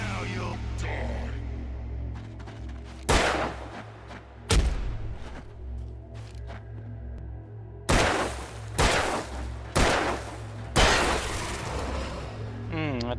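Gunshots fired in the video game Alan Wake, about seven loud cracks at irregular intervals over a low droning game soundtrack, with the later shots bunched close together.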